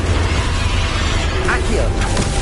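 A Confringo fire spell in Hogwarts Legacy detonates in a loud, dense blast with rumbling low end and crackling debris, part of a chaotic battle against Ranrock.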